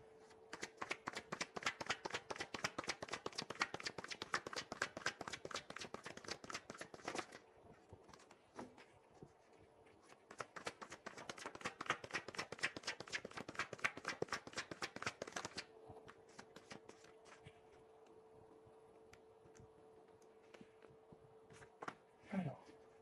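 Tarot cards shuffled by hand in two long bursts of rapid, crisp riffling flutter, close and clear, with a pause between and scattered taps at the end.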